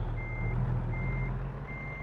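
Steady electronic reversing beeps from a truck backing up in American Truck Simulator, three evenly spaced tones over a loud low engine idle, with no talking.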